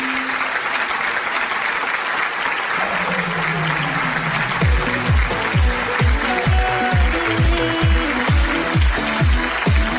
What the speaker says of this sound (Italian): un applauso forte per Sara Fiorello.